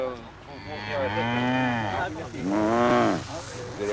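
Cows moo loudly during cattle marking on summer communal pastures, two long drawn-out calls close by, one after the other.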